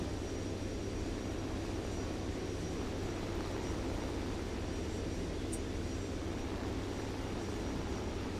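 Propeller plane engine in War Thunder, flown on a winter map and pushed hard without blowing out, a steady loud drone with a low hum holding unbroken throughout.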